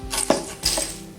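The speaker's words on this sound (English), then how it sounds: "Step number 1, we're going to introduce the salt into the blender." Coarse sea salt poured into a blender jar gives a brief gritty rattle in two short bursts, close and loud, with no voices.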